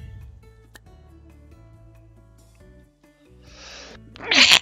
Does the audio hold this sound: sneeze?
yes